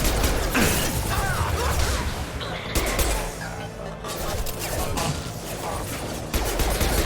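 Weapons firing during a Mass Effect battle: dense, continuous bursts of gunfire and mechanical clatter with crashes and whooshes, loud and close throughout with no talk.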